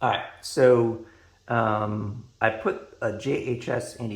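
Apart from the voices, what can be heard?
None of the usual background noises is heard.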